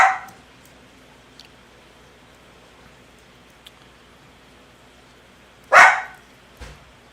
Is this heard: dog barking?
yes